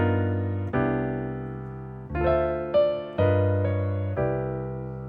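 Sustained piano notes and chords play a jazz 2-5-1 bass line, with several held, ringing tones that change at a slow, even pace, heard clearly and alone.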